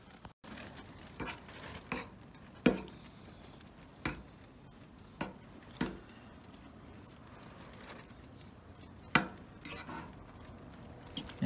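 Spoon stirring canned Chef Boyardee spaghetti and meatballs in a pot, giving sparse, irregular metallic taps and clinks over a faint wet, soft background.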